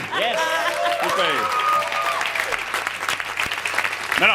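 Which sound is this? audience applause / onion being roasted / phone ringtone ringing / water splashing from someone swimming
audience applause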